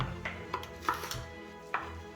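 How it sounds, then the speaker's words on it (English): A knife chopping an onion on a board in a home kitchen, a few sparse, sharp taps spaced irregularly, close and fairly quiet. "She's cutting the onion"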